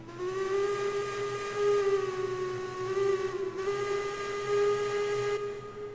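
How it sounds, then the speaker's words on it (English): A steam locomotive's whistle in the train game Railroads Online, one long steady harmonic blast with a slight dip midway, loud and close over a hissing steam background, with no talking. "Let's see what our whistle sounds like."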